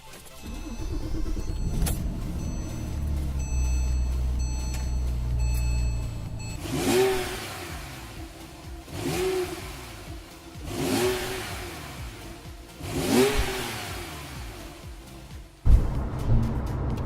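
Car pulling away and driving on a spring road trip toward Mississauga: a steady engine hum at first, then four swelling rev-ups as it accelerates through the gears, heard from inside the cabin with no talking.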